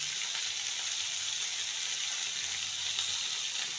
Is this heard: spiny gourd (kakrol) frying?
yes